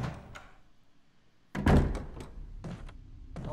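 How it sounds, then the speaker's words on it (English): Heavy wooden thuds from a door being knocked on in the Resident Evil video game, a cluster of close, loud knocks followed by a couple of further separate hits. "Knock, knock, knock!"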